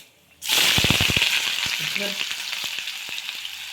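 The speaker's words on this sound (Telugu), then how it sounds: "ఇప్పుడు ఉల్లిగడ్డలు వేసుకుందామండి." Chopped onions go into hot oil in a pan already holding cinnamon, cloves and caraway for a bottle gourd curry, bursting into a loud, dense sizzle that settles into steady frying with a few stirring knocks.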